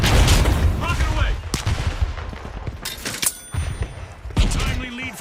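In a first-person shooter match, a rocket launches and explodes amid a dense stretch of gunfire, thuds and sharp blasts, loud and close, with announcer-style voices speaking over the action.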